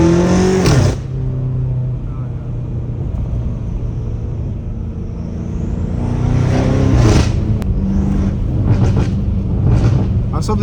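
A 650 hp BMW M5 Competition being driven hard, engine rumble building and revving up with gear-change bursts, loud and close, with some talk over it.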